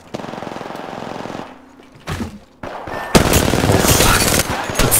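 Video game gunfire in a dense automatic burst, a brief lull with a few isolated shots, then loud sustained rapid fire through the rest.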